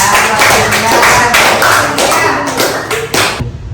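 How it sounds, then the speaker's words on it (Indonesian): A class of students clapping for a classmate named Indah, a dense patter of many hands close by that runs throughout and thins out at the end, with some voices mixed in. "Tepuk tangan buat Indah."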